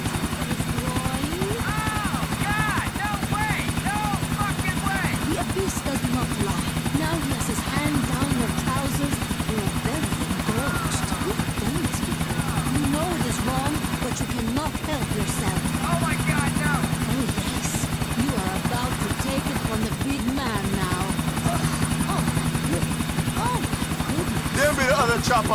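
Helicopter in GTA 4, a loud, continuous rotor drone with a throbbing low pulse running throughout, while voices talk over it and other game noises flicker in the background.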